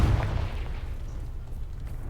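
A Confringo fire spell from a Harry Potter video game goes off in one heavy, close blast at the start, and a low rumbling tail fades slowly after it.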